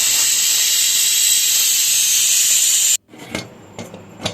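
A pressure cooker holding mutton stew with vegetables gives a loud, steady, high-pitched hissing whistle for about three seconds, then cuts off abruptly, leaving a few soft clinks and knocks.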